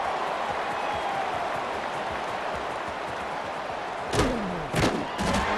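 A stadium crowd in the College Football 26 video game roars steadily through a punt return, with a few loud thuds and a whistle-like sweep rising over the cheering near the end.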